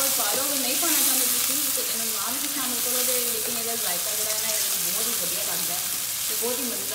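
Chicken masala sautés in ghee, a soft continuous sizzle and frying hiss heard close by, with faint tonal background sounds running underneath and no clear talking.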